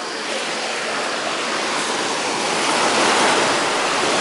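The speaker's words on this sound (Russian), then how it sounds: "на первый взгляд кажется, что волны не очень сильные, но меня чуть не прибило к этому камню" Steady, loud surf washes over a beach in Fethiye, Turkey: a broad, continuous roar of breaking sea waves, close and unbroken, swelling slightly toward the end with no voices.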